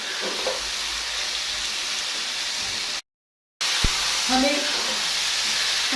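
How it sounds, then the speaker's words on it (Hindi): Urad dal fries in a pan with an even hissing sizzle and faint stirring scrapes, broken by a short silent gap, then a sharp knock and a few brief voiced sounds over the continuing sizzle. "हमें दाल को फ्राई करते हुए,"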